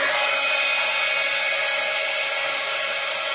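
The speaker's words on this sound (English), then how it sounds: "Let's go ahead and dry this. Heat gun alert." A heat gun drying a craft project for an art journal, giving a steady, loud, close whooshing blower noise with an electric whine that holds unchanged throughout, no speech.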